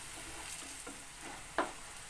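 Dal vadas frying in oil in a home kitchen, a faint steady sizzle with a few soft stirring scrapes and one sharp clink near the end, no talk.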